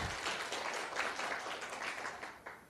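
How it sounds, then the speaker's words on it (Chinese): An audience at a university science lecture claps in applause, a fairly faint, dense patter of many hands that swells and fades slightly across the stretch without any voices over it. "大家鼓掌一下。"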